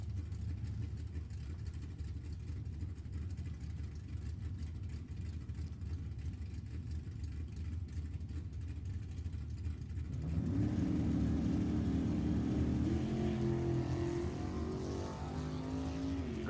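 Drag racing cars, including a 1962 Chevy II, idle with a low rumble, then engines roar to full throttle partway through, loud and rising with fast revving pulls at a race track.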